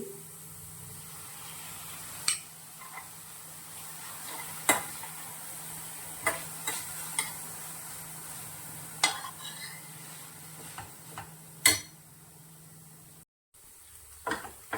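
Chopped tomato frying for palak paneer, a faint, steady sizzle with scattered sharp clicks and scrapes of a spoon against the pan, quiet and close, briefly cutting out near the end.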